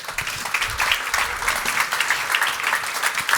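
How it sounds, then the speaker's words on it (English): Audience applause at a business talk, a steady dense patter of many hands clapping at moderate volume throughout, with no voices over it. "Big applause to you."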